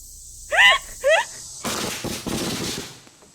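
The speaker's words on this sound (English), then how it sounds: "Well, it's a firework," A firework explodes into a loud, crackling, sputtering burst that lasts over a second, preceded by two short shrill exclamations from a voice.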